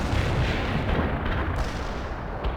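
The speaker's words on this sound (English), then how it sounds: "Launching a barrage." An artillery barrage in the video game World in Conflict: dense, continuous rumbling booms and blasts overlapping into a heavy, loud roll of fire with no voices.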